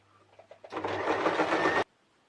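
A sewing machine runs in one steady burst of about a second, stitching green velour strips onto a fabric square, close and fairly loud after a few soft handling noises, then stops abruptly.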